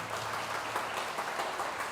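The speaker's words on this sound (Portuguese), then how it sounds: "Pode aplaudir Jesus." A church congregation applauds during a Wednesday service, steady faint clapping from a distant crowd with no voices on top.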